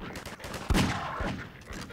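A sharp sniper gunshot cracks out once at close range in Half-Life 2 co-op, followed by a softer second shot amid steady background game noise.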